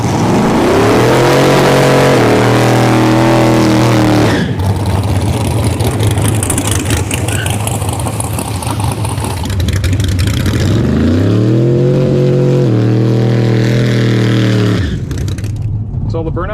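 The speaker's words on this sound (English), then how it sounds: "That's all the burnout he's doing?" A nitrous drag car doing a burnout before a race: a loud engine revs up, holds, drops, then revs and climbs again, close and dominating throughout.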